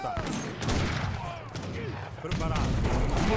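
Cannons and culverins fire in Age of Empires II, a dense burst of overlapping booms and battle clatter, loud and close, running throughout with no clear talk.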